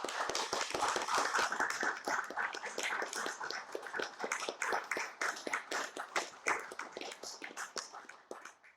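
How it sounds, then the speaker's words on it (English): A round of applause from an audience after an interview, many hands clapping densely at first, then thinning into scattered claps that fade toward the end. "That round of applause gives me just the right place to cut the soundtrack when I edit it."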